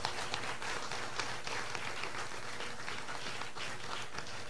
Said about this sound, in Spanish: Queremos un fuerte aplauso